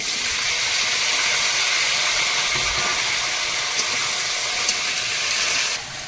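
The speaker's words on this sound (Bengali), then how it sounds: "তেলের মধ্যে ঢেঁড়স আর আলুটা দেবো" Okra and potato pieces sizzle in hot oil in a kadai, giving a steady, close frying hiss that runs unbroken and fades slightly at the very end.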